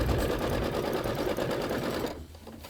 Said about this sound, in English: So I'm just going to go ahead and hit start and let it do the quilting stitches